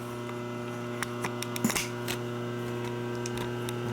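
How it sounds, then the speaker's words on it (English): Phase converter running in a workshop during a 1946 Knucklehead motor rebuild, a steady low electrical hum with buzzing harmonics throughout, plus a few faint clicks and handling taps nearby. "You get to listen to that phase converter running over there"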